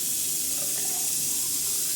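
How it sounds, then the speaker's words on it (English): Water running and gurgling in a clogged bathroom sink drain as it slowly goes down, a steady close hiss and trickle with no talking. "the water goes down very slowly"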